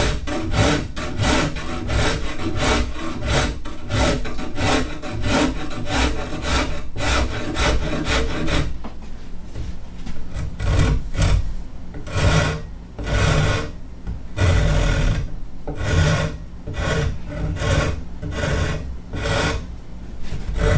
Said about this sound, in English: You want to let the rasp do the work.